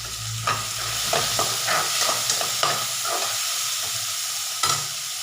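Tomatoes sautéing with turmeric and salt in a pan for a capsicum masala, a steady sizzle punctuated by repeated spatula scrapes and knocks against the pan, no talk.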